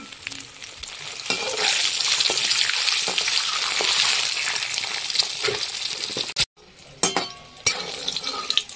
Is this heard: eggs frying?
yes